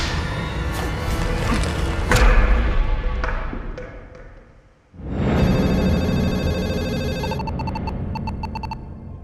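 A telephone ringing to wake someone, with a rising electronic bell tone repeating in bursts near the end, following a stretch of dramatic thuds and rumbling that fades to near silence.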